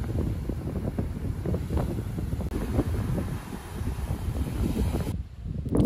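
Strong, warm wind buffets the microphone on a wild, rocky stretch of the Baltic coast, a constant heavy rumble with gusts that ease near the end, and no voices.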